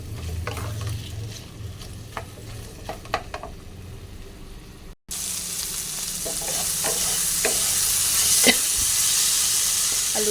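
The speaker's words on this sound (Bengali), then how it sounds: "দিয়ে দেবো একটা মিডিয়াম সাইজের টমেটোকে নরম করে ভেজে নেব।" Potato, carrot and a medium tomato sizzle steadily in a hot pan, with occasional stirring scrapes and clicks over a continuous frying hiss that grows brighter partway through, no voices present.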